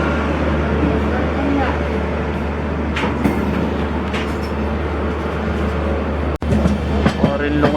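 The Goa Humsafar Express rumbles along steadily after leaving Nizamuddin, a loud continuous rolling roar inside a coach with faint clacks and a brief sharp break near the end, with voices in the background.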